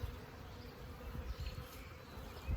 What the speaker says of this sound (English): These could be robber bees